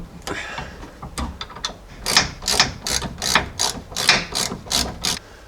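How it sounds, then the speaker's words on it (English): A breaker bar ratchets against a 3/4 tie rod nut on a Jeep Cherokee XJ steering linkage, giving a run of sharp, regular metallic clicks, close and loud, each about half a second apart after a few quicker opening clicks. "I'm just going to break it free with a breaker bar."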